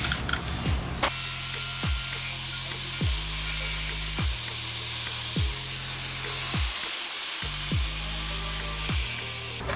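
A long bolt on a fuel can mount for a Royal Enfield Bullet 500 motorcycle is cut off with a tool, a loud continuous grinding hum close by broken by repeated rhythmic strokes about once a second.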